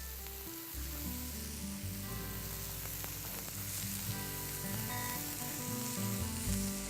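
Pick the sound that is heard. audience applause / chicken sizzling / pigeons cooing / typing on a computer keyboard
chicken sizzling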